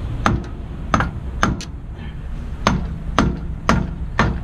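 A hammer strikes hard on a U-joint on a Volvo, about seven loud, sharp metallic blows at an uneven pace, with close workshop noise between the hits.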